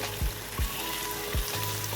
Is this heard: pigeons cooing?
no